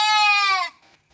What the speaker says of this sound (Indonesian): Sebelahnya langsung kandang kambing.